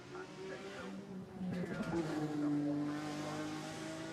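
Race car with side exhaust pipes at the Goodwood hillclimb, its engine droning and rising as it passes at moderate distance, with a brief tire squeal partway through.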